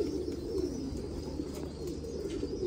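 Pigeons cooing in a loft of newly bought chicks, with low, soft, continuous coos layered together and heard close.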